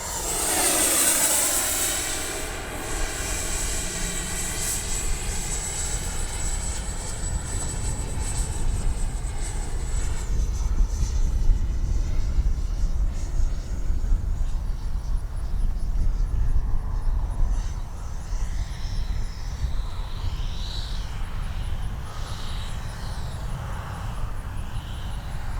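An Arrows RC F-15 model jet with twin 64mm ducted fans flies past with its landing gear lowering. A high, loud whine drops in pitch as it passes, then eases into a broad rushing roar that lingers as the jet moves away.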